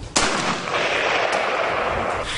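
AK-47 and M-16 assault rifles fire during testing: a sharp loud report opens, followed by a sustained roar of rapid shots and echoing blasts, with no voices.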